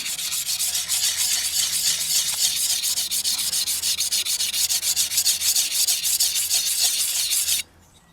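Blade with two bevels being sharpened on a sharpening stone, a steady rasping rub repeating in quick strokes for about seven and a half seconds before stopping abruptly, close and fairly loud with no talking.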